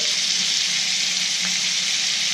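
A prime beef ribeye searing in a stainless steel All-Clad pan gives a loud, dense, unbroken hiss of fat sizzling up close, with no talking.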